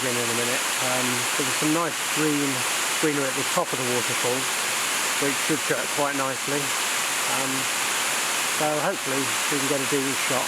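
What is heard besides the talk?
waterfall flowing down rock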